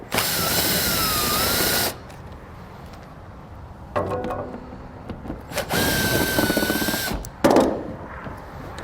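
Power drill or impact driver backing out screws from the underside of a 2021 Chrysler during a Curt trailer hitch install, two long whirring bursts with pauses and small clanks between, close and loud.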